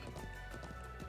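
Horse hooves clip-clop steadily in the video game Trails of Cold Steel II, a loud, continuous trotting rhythm over a dense, constant game soundtrack bed.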